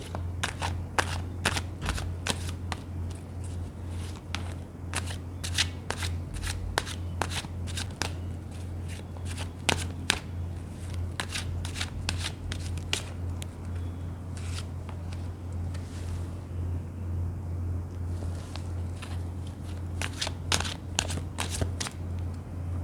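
Tarot cards being shuffled by hand, a long run of crisp riffling flicks and soft rubbing of the deck, close and continuous over a faint low hum, with no talking.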